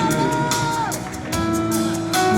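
An audience at a live show in Modena claps and cheers. The crowd noise mixes with the singer's voice and the band, and scattered claps recur across the whole stretch.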